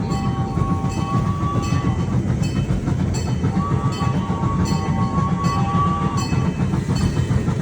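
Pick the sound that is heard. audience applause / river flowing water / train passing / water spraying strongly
train passing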